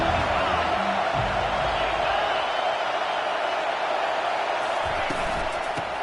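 A college football stadium crowd roars steadily through a third-down play, a dense, continuous wash of cheering with commentary voices over it.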